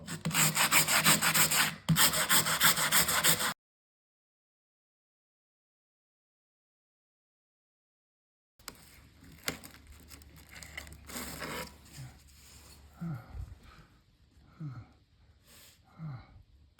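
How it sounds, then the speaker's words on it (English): An old file card and wire brushes scrubbing a dull metal file clean: dense, steady raspy brushing strokes for a few seconds, then after a gap, softer intermittent scraping and handling noises nearby. "Here's an old file card we're going to use to clean this out, as well as using some wire brushes."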